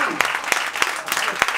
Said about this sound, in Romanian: Aplauze pentru cuplul Sării.